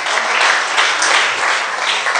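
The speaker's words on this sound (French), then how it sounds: "Merci, ça mérite des acclamations." A church congregation bursts into dense, steady applause, loud and close, filling the whole short stretch with no voices over it.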